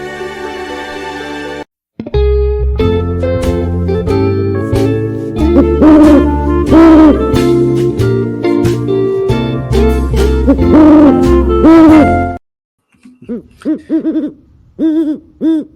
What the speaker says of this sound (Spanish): Y ya está con nosotros aquí el búho sabio